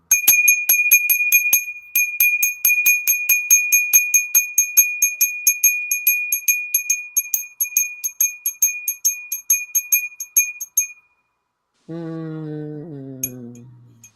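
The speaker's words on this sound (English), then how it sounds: "I love using bells to clear space." Small bells are struck rapidly and repeatedly in a bright, ringing sequence for about ten seconds, then stop; after a short pause a lower sustained tone sounds and a single faint bell strike follows.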